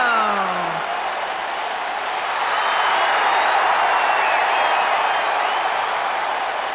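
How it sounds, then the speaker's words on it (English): A video game arena crowd in WWE 2K19 gives a steady, broad roar of applause for Chris Jericho's entrance, holding level throughout with a few whistling tones gliding across it. "Get on your feet and applaud over there, Suxton."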